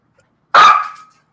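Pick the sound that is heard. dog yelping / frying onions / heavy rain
dog yelping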